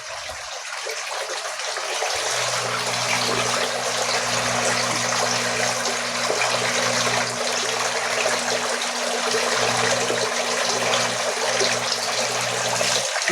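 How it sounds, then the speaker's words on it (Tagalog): Water pours steadily into a crayfish pond, a loud continuous gushing splash that starts suddenly and keeps going close by, with no talking. "Dagdagan pala natin siya ng tubig."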